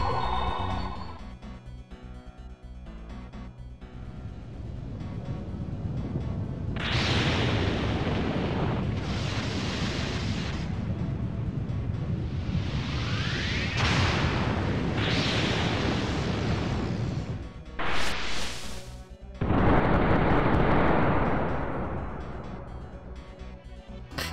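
A fire dragon spell in the video game Eternal Eyes bursts up from under the feet with a long run of loud, roaring eruptions and booming blasts, broken by brief pauses before a final heavy burst.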